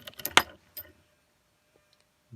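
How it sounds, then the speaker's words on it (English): A lost set of keys jangles up close in a brief metallic cluster, then a lighter clink follows before a quiet remote cabin settles into near silence. "Somebody lost a set of keys here"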